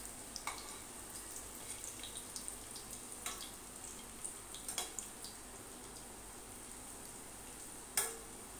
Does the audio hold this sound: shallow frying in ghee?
yes